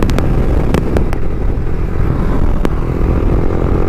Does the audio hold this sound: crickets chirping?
no